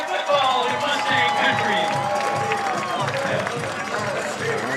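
Hometown crowd at a Friday night high school football game roars with cheers, whoops and scattered clapping as the East Lincoln Mustangs take the field, a loud, steady wash of noise with a whistle-like tone early on.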